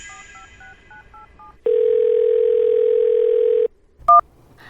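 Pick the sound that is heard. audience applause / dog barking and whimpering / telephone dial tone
telephone dial tone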